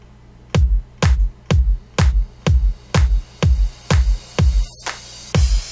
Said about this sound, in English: So now there's more claps, and the reverse clap is in too.